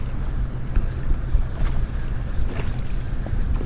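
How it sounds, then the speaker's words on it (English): Strong wind on open water near a South Padre Island bank during fishing, a steady loud roar of gusts buffeting the microphone with lapping water beneath, constant throughout. "The wind's definitely picking up"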